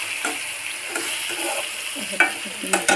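Fish in a frying curry stirred gently, a soft sizzle with light scraping and a few sharper clinks of a utensil against the pan.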